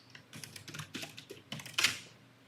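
Keys tapped on a computer keyboard while entering a password over SSH for a server setup, a short close run of soft quick clicks, irregular in rhythm, ending with a firmer keystroke like Enter.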